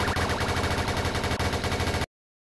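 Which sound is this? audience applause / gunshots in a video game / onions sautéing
gunshots in a video game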